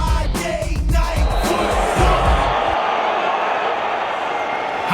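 A sold-out home crowd at a Lingerie Football League game, Chicago Bliss versus Seattle Mist, roaring and cheering loudly as a dense wash of noise, with commentators talking over it and thuds early on before the crowd fades.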